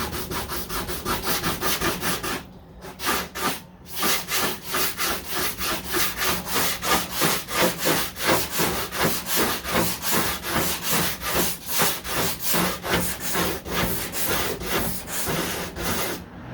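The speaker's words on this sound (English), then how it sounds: "So you can see how fast that just sanded right down." Hand sanding of body filler on a 1969 Corvette C3: rapid, rhythmic rasping back-and-forth strokes, close up and continuous with two brief pauses, no talking.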